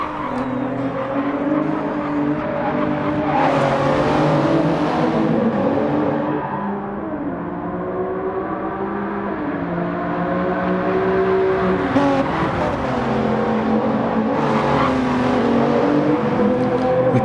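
LaFerrari race car engine in a racing video game, a loud, high-revving wail that climbs through the gears, drops on shifts and rises again, with a brief swell of tire and road noise, sustained throughout.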